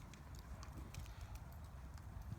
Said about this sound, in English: You can see that this horse is naturally balanced, and he's giving a comfortable, obedient ride to Claire.